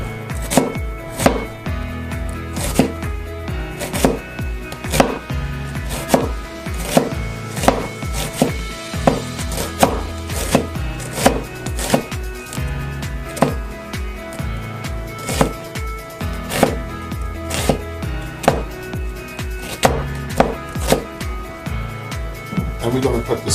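A knife chops onions on a board in a steady, rhythmic series of sharp close thuds that continue throughout, under ongoing talk.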